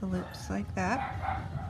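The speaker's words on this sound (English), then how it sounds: "I wonder if you can hear my dogs barking." Dogs barking upstairs in a house, a few short yapping barks heard indoors under a person's steady talking.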